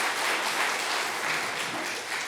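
A church congregation claps in a steady, dense burst of applause, loud and close, with no talking over it.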